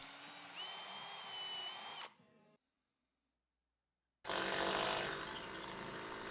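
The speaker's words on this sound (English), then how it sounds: "Then I cut it to length and drill a few pilot holes." A power drill bores pilot holes into a scaffold-board offcut, whining steadily and loud for about two seconds, then winding down and stopping; after a silent gap the drilling starts again at full, close volume.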